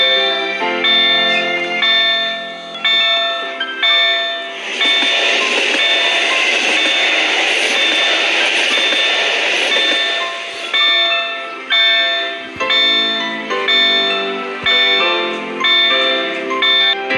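A Czech level crossing bell rings in a steady repeating rhythm while a train rumbles past nearby, the passing roar swelling in the middle before fading.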